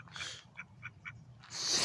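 Ducks quack in a short series of soft, distant calls, about four quick quacks, outdoors along a pedestrian path in Beaverton, Oregon, followed by a burst of noise.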